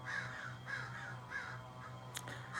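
Crows caw in a repeated series of about four harsh calls, moderately distant over a low steady hum, with a brief sharp click near the end and no talking.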